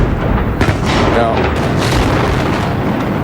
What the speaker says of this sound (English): it definitely looked like we had some ground explosions there